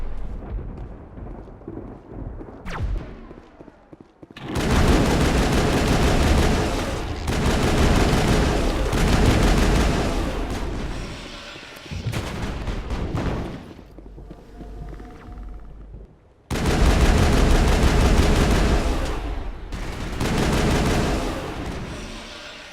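A big gun in Mass Effect booms in long, heavy rumbling barrages separated by short lulls, loud and thunderous across the whole stretch.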